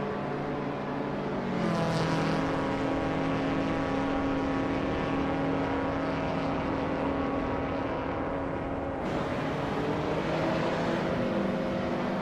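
Vintage race cars at Virginia International Raceway Grand West in a racing video game, a steady loud engine drone with layered tonal whine that holds throughout and shifts pitch slightly midway.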